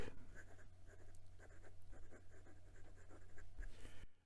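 Ebonite-fed fountain pen nib from a 2021 Tibaldi Bononia scratching across paper, a close, continuous series of soft strokes with slight tooth, heard alone.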